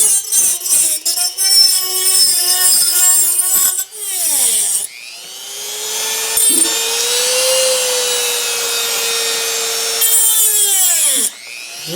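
Power tool cutting a notch into a metal stove burner part, a loud sustained whine with shifting pitch, a stuttering start, then a long continuous cut that dips in pitch as it bears down.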